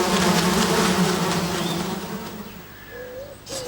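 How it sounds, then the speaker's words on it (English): A swarm of wasps buzzing, a loud, dense, continuous drone that slowly fades and thins toward the end, with no speech. "more and more wasps arrived"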